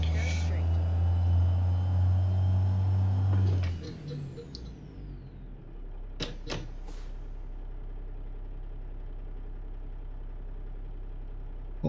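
A ZeeMods Cummins N14 truck engine idles in a long-haul trucking video game, a steady low drone for a few seconds that then drops away, leaving a quiet hum broken by a few sharp clicks.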